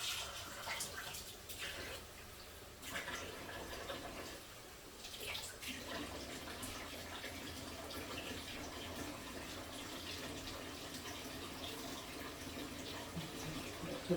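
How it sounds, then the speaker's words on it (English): Tap water runs steadily over red chili, a continuous faint splashing and gushing with small shifts in flow, heard fairly close and without talk. "I'm going to rinse this with a little bit of water."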